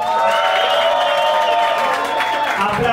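A studio crowd on a TV show gives a contestant a short burst of steady applause and cheering over music.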